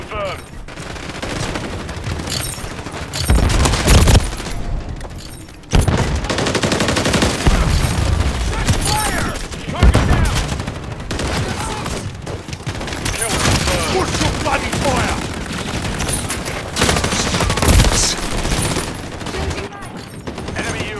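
Sustained automatic gunfire fills a busy video game firefight, dense overlapping bursts with occasional louder bangs and brief lulls, while radio-style voice callouts and talk sound over the shooting.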